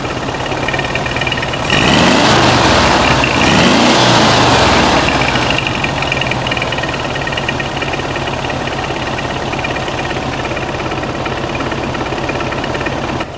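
A 1969 VW Beetle with a 1600cc engine and dual 34 carburetors runs close and loud, rising in a brief rev-up before settling into a steady, rhythmic thudding idle for the rest of the stretch.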